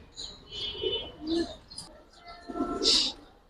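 Giribaz and Afsan bagha pigeons in a fancy pigeon collection give a few soft, low coos mixed with brief higher chirps, close by and with no talking.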